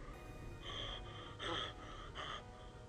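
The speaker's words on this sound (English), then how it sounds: "Breathing?" Heavy breathing is heard in a horror ASMR roleplay, a faint, breathy series of about four gasping inhales and exhales, close and quiet with no voice over it.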